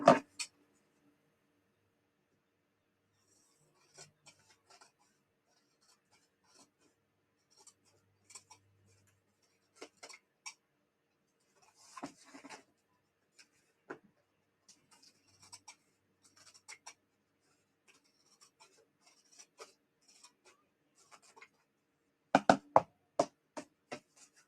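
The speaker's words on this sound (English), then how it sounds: "I'm going to cut off the excess." Excess material is trimmed from a junk journal cover made with a 1981 sewing pattern: sparse, quiet snips and scratchy cuts scattered over the span, ending in a louder cluster of cuts near the end, with no talk.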